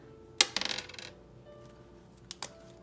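A large die tumbles across a hard surface at home during a cash savings challenge: one sharp impact followed by a quick run of small rattling bounces, then two brief clicks near the end, close by with no talking.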